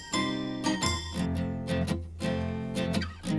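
Guitar recorded through a single Neumann U47 microphone, several strummed chords ringing out in a short phrase with clear attacks and sustained harmonics, played alone with no voices.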